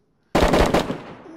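Guns firing in a deathmatch video game, a sudden loud rapid burst of automatic fire that rings out and decays over about a second.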